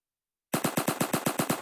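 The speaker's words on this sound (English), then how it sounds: "Okay, I got shot by something." Automatic gunfire in the video game Liberty County bursts in after a moment of silence, a loud, evenly spaced string of about eight shots in quick rhythm.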